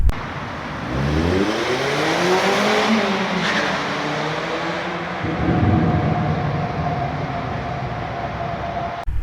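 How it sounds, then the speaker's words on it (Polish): A Mazda MX-5 sports car engine roars and revs, pitch sweeping up and down as it accelerates, loud and close, then settles into a steady drone. "ten ryk silnika to jest po prostu coś, co bardzo mi się podoba w tym samochodzie"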